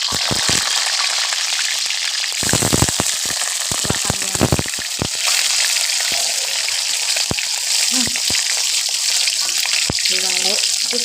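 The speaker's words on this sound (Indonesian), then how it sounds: "Tak goreng dulu" Food fries in a pan with a steady hiss and crackle while home cooking, broken by clattering utensil knocks and stirring. A voice speaks intermittently over the sizzle.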